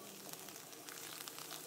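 Parsley frying in hot oil in a pan for shrimp and asparagus pasta, giving a steady, faint sizzle with small crackling pops throughout.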